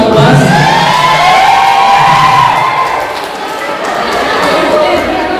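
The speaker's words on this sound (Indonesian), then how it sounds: "tepuk tangan untuk Posko 14" A crowd at a university faculty awards closing ceremony cheers and shouts loudly for a winning group, excited whoops and chatter mixed with a presenter's voice.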